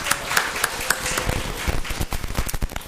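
Congregation clapping in a church service, scattered claps at first that grow into denser, irregular applause from many hands nearby.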